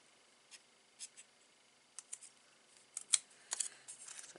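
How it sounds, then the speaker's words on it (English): Scissors snipping through card stock during card-making, a series of short, sharp dry cuts spaced irregularly, growing denser and louder toward the end, close up in a quiet room with no talking. "it would help if I open the scissors, wouldn't it, Gain?"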